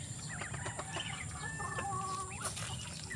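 Chickens on a Filipino backyard farm where a rooster is being sold, with clucking and short crowing-like calls over a steady low hum, several bird calls overlapping near the middle of the clip.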